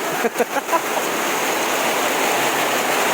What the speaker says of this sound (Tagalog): Naabsan og ulan.